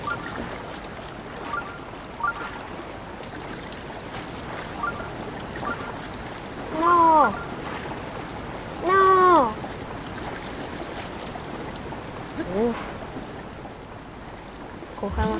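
River water rushes steadily in the video game Zelda: Breath of the Wild, a continuous broadband wash heard throughout, with a few short vocal exclamations rising over it.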